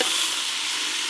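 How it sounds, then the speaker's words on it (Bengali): Potatoes and pointed gourd fry together in a pan with salt and turmeric, making a brief, steady, close sizzle without any talk. "লবণ, হলুদ গুঁড়ো, চাপা দিয়ে দিয়ে আলু আর পটল খুব ভালো করে একসঙ্গে ভেজে নেব।"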